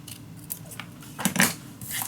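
Scissors snip off excess craft material in a few quick close cuts, sharp brief clicks and slices in a quiet room without talk.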